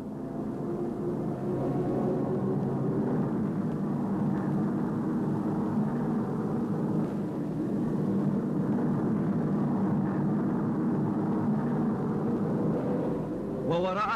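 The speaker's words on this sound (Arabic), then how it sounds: "انذار، إنها طائرة استكشاف من نوع مشار تحضر." A reconnaissance airplane drones overhead during the Algerian war, its engine giving a steady, humming, propeller-like tone that stays constant for the whole stretch.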